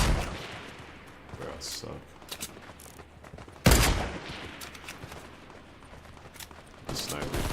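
Sniper gunfire in Fortnite, a few sharp loud cracks spaced seconds apart, one especially heavy shot midway, mixed with game effects and a player talking.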